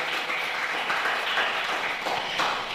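A church congregation at a pastors fellowship in Kilinochi, Sri Lanka claps together in praise, a dense, steady applause that holds at even loudness throughout.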